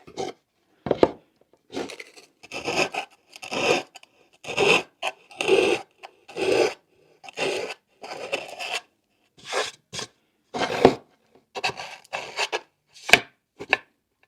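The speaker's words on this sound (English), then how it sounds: "I haven't had any luck with that sandpaper from the dollar store" Hand sanding with cheap dollar-store sandpaper during a bamboo tissue box decoupage project: a series of short rasping scrub strokes in bursts, close and fairly clear, with brief pauses between strokes.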